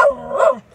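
A small dog lets out one short, close, loud bark, outdoors on a matchday walk, with no talking over it.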